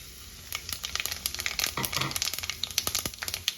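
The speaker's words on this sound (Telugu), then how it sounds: "పోపులోకి ఆవాలు, జీలకర్ర, పసుపు వేసేస్తున్నానండి" Mustard seeds, cumin and turmeric hit hot oil as a tempering for dosakaya pappu, giving a lively sizzle with quick, irregular pops and crackles spattering close by.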